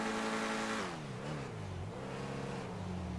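The Declasse Scramjet in GTA 5 revs its engine loudly and continuously, the pitch dipping and climbing as the car accelerates and shifts, with a harsh synthetic roar throughout.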